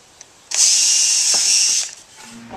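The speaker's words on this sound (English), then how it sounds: "drill pilot holes for our screws" A power drill bores pilot holes through damp wood boards for a compost bin build, one loud, steady whine lasting just over a second before winding down.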